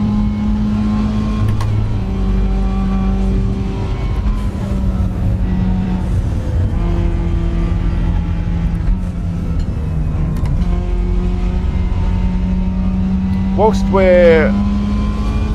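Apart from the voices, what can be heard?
Mazda race car engines in the RaceRoom video game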